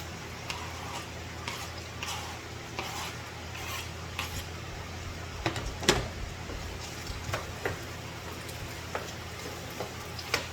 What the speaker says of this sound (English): I'm going to just throw the onions now in there